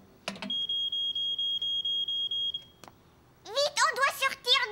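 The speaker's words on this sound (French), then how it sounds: "dès que l'alarme se mettait en route, il fallait sortir de la maison le plus vite possible" A cartoon smoke alarm sounds a rapid run of high, evenly spaced electronic beeps for a couple of seconds, loud and close, then cuts off before an animated voice starts talking.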